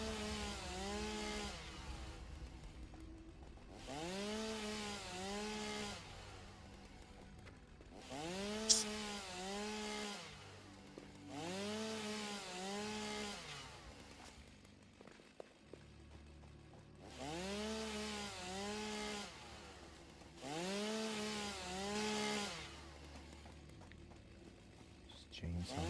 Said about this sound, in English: I can hear your chainsaw